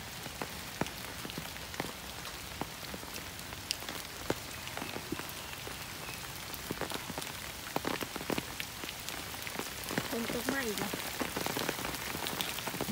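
Heavy rain pouring down outdoors near elephants in Thailand, a constant wash of drops with sharp, irregular splats and drips striking nearby surfaces, fairly quiet and steady without speech.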